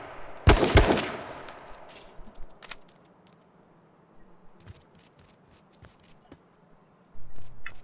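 Gunfire in the video game H1Z1: a loud close burst of shots at the start, then scattered faint pops and movement noises before another thump near the end.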